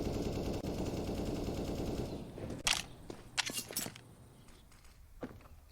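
Counter-Strike match gunfire: rapid machine-gun bursts at first, then a few sharp, separated shots and thuds, mid-distance and moderately loud, with no talk audible.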